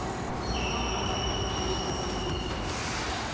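A subway train in Kyoto, Japan rumbles steadily with a loud, continuous roar, while thin high wheel squeals rise and hold for a couple of seconds; nobody speaks.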